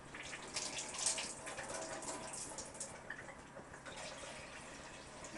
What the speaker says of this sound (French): Donc on va mettre un peu d'eau là-dedans.